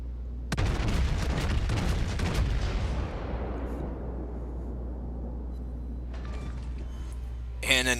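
A battleship's main guns fire in a naval combat game, a heavy booming report with a long rumbling decay, then a fainter distant crackle of shots and a sharp burst at the end.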